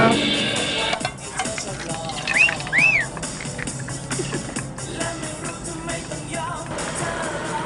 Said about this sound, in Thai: ทอดไข่ดาวก่อนนะ